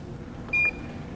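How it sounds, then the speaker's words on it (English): A digital kitchen scale, used for weighing coffee, gives one short high electronic beep when zeroed, close and clear above a low room hum. "So I'm going to zero the scale."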